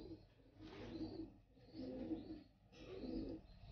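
A racing pigeon hen coos softly at close range while held in the hand, giving three low, rolling, throaty coos in a slow, even rhythm with brief pauses between them; no speech.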